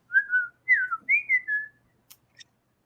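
A person whistles a short, chirpy melodic phrase imitating cartoon characters who speak only by whistle, four or five bright sliding notes close to the mic, followed by two faint clicks.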